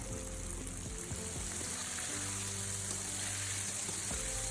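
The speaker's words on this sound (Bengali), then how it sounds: "এবার গরম তেলের মধ্যে একটা একটা করে চিকেন দিয়ে দিতে হবে" Chicken pieces fry in hot oil over a medium flame, making a steady, even hiss of bubbling with no break. It is a faint, close, continuous sizzle, and no one speaks.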